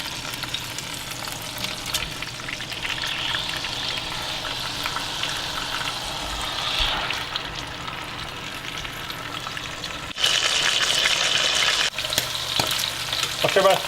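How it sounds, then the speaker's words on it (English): Meat searing in hot oil or tallow for a Durban curry gives a steady, close crackling sizzle that jumps louder near the end. "So once the oil or the tallow is heated up, we're just going to lay these in, allow them to get a nice brown crust on one side,"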